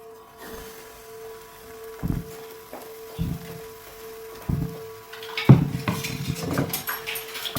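Chocolate pancake batter poured into a small oil-greased pan: soft clinks and taps of utensil against pan, then a louder clatter and a gentle sizzle as the batter lands, close up and without speech.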